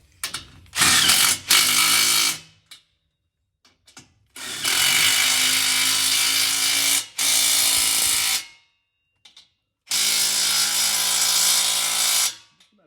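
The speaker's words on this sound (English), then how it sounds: "So we're just going to use our 17 mil on our impact." A Toyota Tundra exhaust is worked with an impact wrench fitted with a 17 mm socket, heard in several loud, close bursts of rapid hammering whirr, separated by brief silences.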